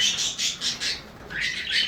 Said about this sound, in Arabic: هاي كلها طيور منتجة